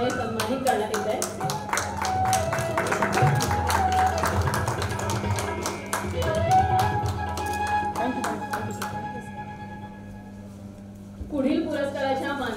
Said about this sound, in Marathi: जोरदार टाळ्या होऊन जातात